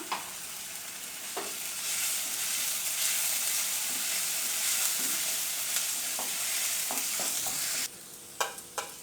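Ground chili paste being stirred into goat head fry in a hot pan, a steady sizzle throughout with intermittent scraping clicks of the spoon, close and continuous.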